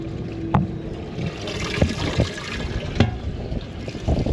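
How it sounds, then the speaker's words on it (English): Aerated water running from a bait tank tube on a boat, a continuous near splashing trickle with scattered knocks and thumps, no voices. "Beautiful aerated water for the Slimies."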